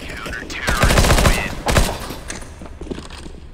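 Dense automatic gunfire rattles in a CS:GO match, a loud rapid burst followed by a second volley that fades into lighter distant shots, with a voice briefly audible over the game.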